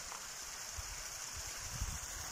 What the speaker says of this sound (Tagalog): Ay, malakas tubig dyan guys.